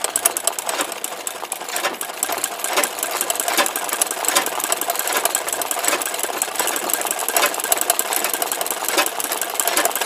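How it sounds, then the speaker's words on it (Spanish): An electric sewing machine stitches simple flower embroidery, running in a steady, continuous whirring rattle close by for the whole stretch with no pauses and no talking. "Estaba haciendo esta costura en la máquina"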